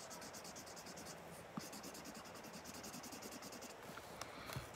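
Colouring on paper for a papercraft infinity gauntlet: a steady, soft scratchy rasp of a marker or crayon stroking back and forth close up, continuous and quiet with a few faint taps.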